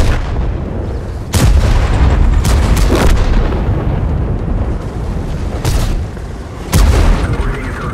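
Tank cannons fire in a World of Tanks clan battle, heavy booming shots landing irregularly, about five loud blasts over a dense rumbling battlefield background.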